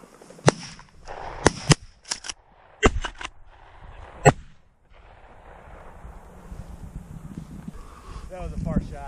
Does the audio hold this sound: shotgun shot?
yes